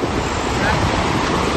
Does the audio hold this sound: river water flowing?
yes